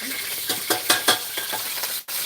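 Pad kaprao, a Thai basil stir-fry, sizzles steadily in a pan, with several louder scraping stirs at irregular intervals and a brief drop near the end.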